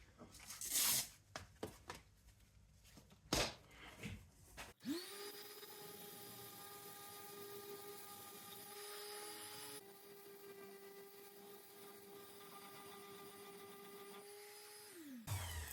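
A power sander runs with coarse 40 grit sandpaper on a boat's window frame, a steady droning whine that holds for about ten seconds before cutting off, after some earlier knocks and scraping clatter.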